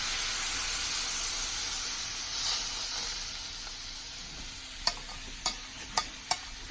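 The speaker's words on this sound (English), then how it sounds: "Just pour the glaze. Yeah. Oh, sizzle, sizzle." A glaze poured into a hot pan of carrots sizzles and hisses steadily up close, followed by four sharp clinks of a utensil against the pan.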